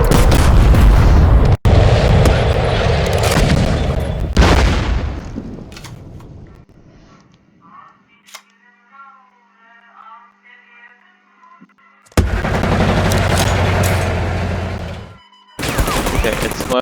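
Katyusha rocket barrage in the card game Kards, heavy booming blasts and crackling fire in loud bursts, falling away to a quiet stretch of faint tones before another loud barrage erupts.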